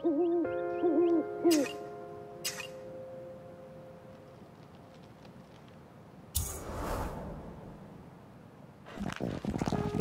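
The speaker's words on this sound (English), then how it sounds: "another owl." An owl in the video game The Red Lantern hoots in a short series of warbling calls near the start, followed by sparse scrapes and a couple of louder rustling bursts later in an otherwise quiet night scene.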